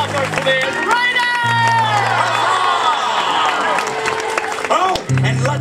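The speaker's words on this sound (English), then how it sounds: "a royal round of applause for Princess Rapunzel" A large crowd claps and cheers for a princess at a royal-themed event, loud and continuous over music-like tones, with shouting voices mixed in throughout.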